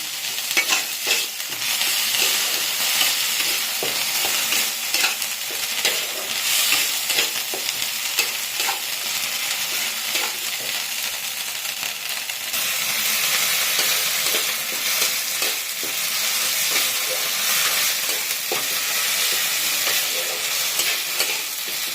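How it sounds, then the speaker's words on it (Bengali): Ginger-cumin paste sizzles loudly and steadily in a hot pan for a cauliflower fish curry, a continuous bright crackle with occasional stirring scrapes and no voices. "এবার আদা জিরে বাটাটা দিয়ে দিচ্ছি।"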